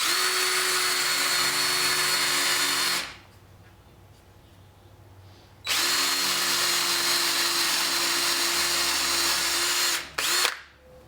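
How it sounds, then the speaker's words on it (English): A power drill bores pin holes in saw blade steel for a knife, whining loud and close in two long runs separated by a quiet pause, then a brief final burst. "It's going to be important that we keep this drill as vertical or straight up and down as possible."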